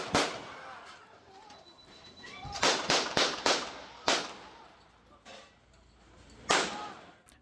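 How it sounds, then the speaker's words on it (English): Gunshots fired during a deadly confrontation over an attempted arrest near BC Place, captured by a bystander: about ten sharp, moderately distant cracks, some clustered in quick succession and others spaced apart, over low background noise. "Ten gunshots can be heard in the video captured by a witness"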